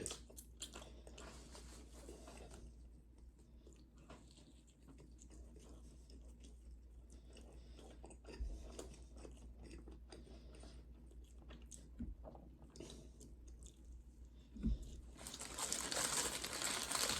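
Close, wet chewing and biting of a McDonald's breakfast, with crinkling wrapper paper and soft crunches spread steadily through the meal, and a louder rustle of packaging near the end.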